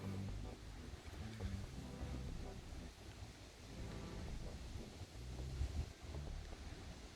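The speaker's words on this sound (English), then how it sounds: "Sorry, it's a little windy." Gusty wind buffets the microphone outdoors with a constant low roar and rumble, and a voice murmurs faintly underneath.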